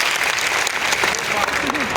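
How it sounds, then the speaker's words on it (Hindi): An audience claps together at a gathering, a dense burst of clapping with some crowd voices mixed in, fairly close and sustained. "आपको एक बार ताली बजानी है।"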